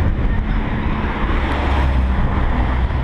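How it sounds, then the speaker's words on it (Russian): A cool breeze blows outdoors on a street near a station in Akihabara, Tokyo, a steady broadband rush of wind buffeting the microphone with a faint low rumble of city traffic beneath, constant and unbroken. "Ветерок прохладненький дует"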